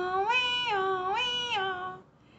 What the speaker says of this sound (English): E a gente pode saber pelo barulho, pelo som, se é um fire station truck.